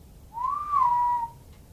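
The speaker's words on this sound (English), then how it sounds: "And they hear the strange whistling noise." A strange single whistle glides up and then down in pitch, clear and alone for about a second against quiet background.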